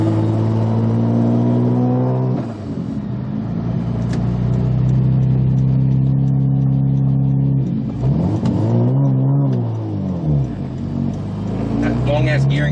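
A car with long gearing and the air conditioning running pulls away under load, its engine droning loud and steady with a rising and falling revving sweep partway through.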